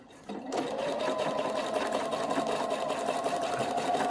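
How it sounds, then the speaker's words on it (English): A sewing machine stitches free motion embroidery for a lace bow, starting after a brief quiet moment and then running at a steady, fast, even hum with a rapid needle rhythm, close and loud. "So I'm going to pass over this again with the same stitching."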